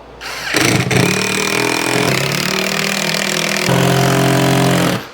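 A power drill pre-drilling a 2x4 board, whirring loudly and continuously for about four seconds and rising in pitch near the end, with no voices.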